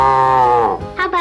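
A cartoon beagle's voice imitates a cow mooing in one drawn-out, wavering low moo that slides down, followed by two short higher vocal bursts, loud and close with no other talk.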